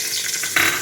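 Whole spices crackle and sizzle in hot coconut oil for a chicken biryani, a bright continuous frying hiss that briefly flares louder.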